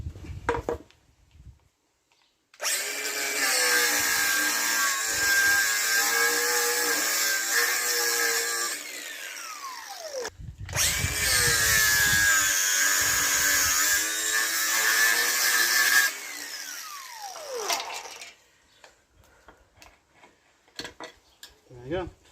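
A power tool cuts off bolts on a Rover 75 Connoisseur CDT during MOT repair work: two long, loud whining cutting bursts, each ending in a falling spin-down, with quiet handling noises between and after.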